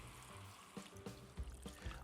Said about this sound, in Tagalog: Ilagay na natin yung tubig.